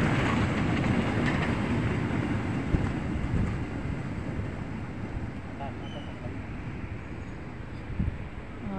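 A KRL commuter electric train passes at Jatinegara station, its steady broadband rumble filling the whole stretch at close range, with voices talking over it.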